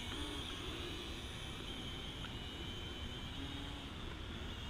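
An Eachine E58 or JJRC H47 mini drone flies at a distance, its faint, steady high-pitched propeller whine holding constant for several seconds against a low background hum.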